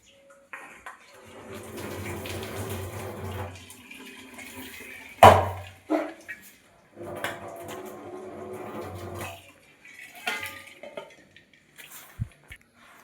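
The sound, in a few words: draining water from boiled chow mein noodles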